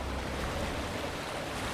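Water churned by passing motorboats sloshes against the walls of a Venice canal, a steady broadband wash with no distinct breaks, loud and continuous throughout.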